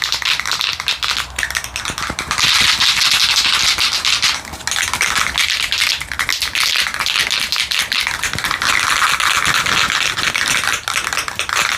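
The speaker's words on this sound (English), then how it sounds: "we'll just start shaking the can vigorously so it mixes very well" A can of Sico Perma-Flex outdoor fabric spray paint is shaken vigorously, giving a continuous loud, rapid rattling and rubbing close by, with brief pauses, and no talk.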